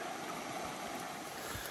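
A river at a creek crossing on a bush hike in Australia flows in a steady, full rush of water with no pauses.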